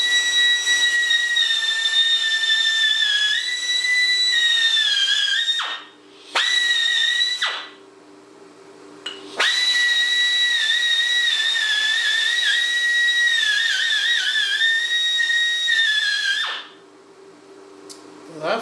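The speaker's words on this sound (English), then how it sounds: "This here is a little bit loud because it's an air tool." A pneumatic air tool on a motorcycle shock tool runs with a loud, steady, high-pitched whine and hiss, briefly cutting out and restarting a few times across a long stretch, close by.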